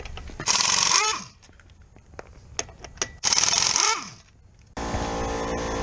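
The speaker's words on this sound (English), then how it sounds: "We're going to take our 19mm socket on our impact gun and remove the lug nuts." An impact gun with a 19mm socket removing lug nuts from a 2002-2005 Ford Explorer wheel, two loud close bursts of rattling hammering with a winding-down spin, then a third burst starting, with faint clicks between.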